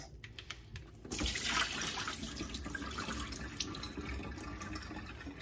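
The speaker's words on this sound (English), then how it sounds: "I'm gonna give it one final rinse to remove all the lemon taste." Running tap water pours steadily over catfish being rinsed in a bowl at a kitchen sink, a soft continuous splash that starts after a second of quiet handling noises.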